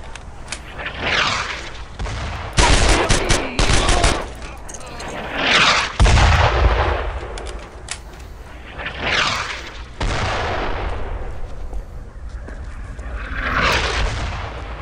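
Repeated gunfire in the Brothers in Arms World War II shooter game, loud bursts and booming shots with rattling echoes spread across the clip, someone talking over some of it.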